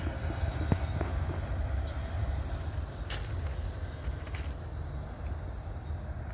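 A Norfolk Southern freight train rolls past in a steady, continuous low rumble, with faint metallic squeals and clatter flickering above it and no voices.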